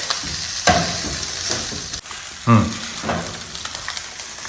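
Chicken pieces fry in oil in a pan, a close steady sizzle with a few sharper clunks and bursts as they are moved, no voices.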